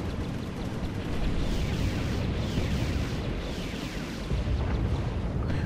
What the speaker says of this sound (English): Although you do actually have the proton torpedoes and the actual hit effects themselves, which are entirely correct, eminently correct.